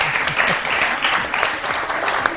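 Studio audience on a morning TV show breaks into steady, dense applause throughout, many hands clapping at once with no voices rising above it.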